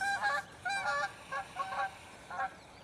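Geese honk in a series of loud, nasal calls, about five bursts spread over a few seconds, heard outdoors with no talking.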